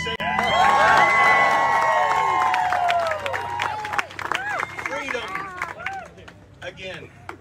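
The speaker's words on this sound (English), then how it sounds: "Give me another round of applause for remembering to say that." A crowd at a South Carolina Republican political gathering applauds and cheers, with loud clapping, shouts and whistles at the start that thin out into scattered, fading cheers.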